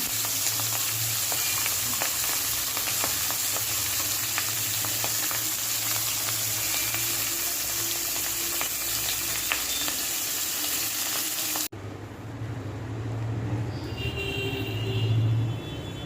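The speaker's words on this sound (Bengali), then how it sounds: "মাছ একসঙ্গে ভাজা করে নেব।" Catla fish fries in oil in a kadai, giving a steady close sizzle with light crackles and a low rumble beneath. Near the end the sizzle drops briefly, then comes back softer.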